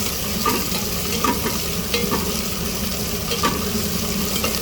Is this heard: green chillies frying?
yes